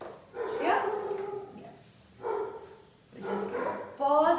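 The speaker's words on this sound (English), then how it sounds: "I'm really sorry for the dogs barking." Dogs barking somewhere in the background, faint and partly buried under a person speaking steadily, with a brief louder yelp near the end.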